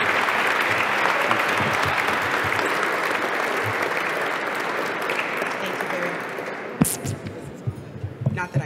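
A dinner audience at a leadership award ceremony claps in sustained, dense applause after a speech, which thins out toward the end as a few louder knocks and a voice break through.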